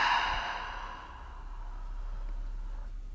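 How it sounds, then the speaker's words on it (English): A gentle, soft "ha" breath pushed out through the mouth as a yoga cooling breath, one long airy exhale that fades slowly, close and alone. "inhale through the nose and out through the mouth, gentle ha sound"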